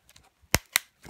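Keys on a 2008 MacBook Pro keyboard being swapped and pressed back into place, giving two sharp, close plastic clicks about a fifth of a second apart after faint fumbling.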